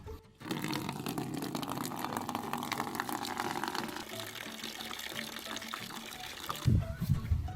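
Water gushes steadily from a campsite tap while a container fills, a continuous loud rushing that runs for several seconds before a few thuds of handling.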